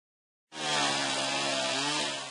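An electric saw cuts through 40 cm thick river ice in sub-zero cold, starting abruptly and then holding a loud, steady, buzzing whine with no voices.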